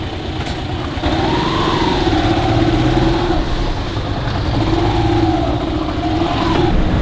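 A steady motorbike engine drones throughout while riding to the Oslob whale sharks, with rising and falling pitch as the rider speeds up and slows, under constant road and wind rush.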